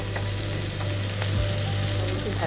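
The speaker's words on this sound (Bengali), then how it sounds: "ভাজা হওয়া পর্যন্ত অপেক্ষা করব। একটু ভাজা হোক।" Onions fry in a pan with a constant loud sizzle, broken by a few scraping strokes as they are stirred, with a steady low hum beneath.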